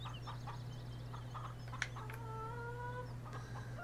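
Chickens cluck and chirp in Farming Simulator 17, a few soft calls over a steady low hum, with one brief louder squawk in the middle.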